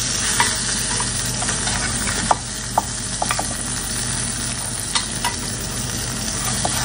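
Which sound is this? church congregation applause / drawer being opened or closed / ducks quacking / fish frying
fish frying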